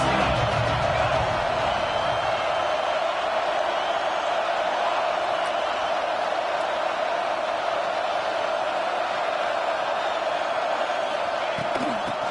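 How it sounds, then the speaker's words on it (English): Crowd noise fills a college football stadium during a Nebraska versus Ohio State game, a loud, constant roar that holds steady throughout with a faint thump near the end. "This crowd trying to make life miserable for this offense."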